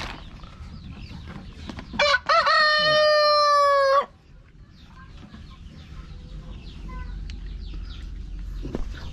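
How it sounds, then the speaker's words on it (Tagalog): A rooster crows loudly and close by in one sustained call of about two seconds. Quieter clucking and yard noise follow, and distant voices murmur faintly in the background. "ang rooster ko na yan o"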